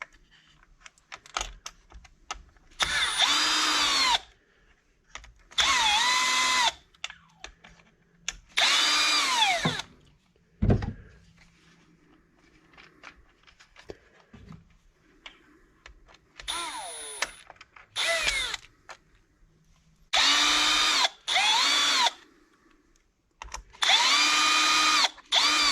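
A power screwdriver removes screws from an RC Maxx chassis while its electronics are taken out, giving short whirring bursts of several seconds, separated by quiet gaps with small clicks and handling sounds, close by.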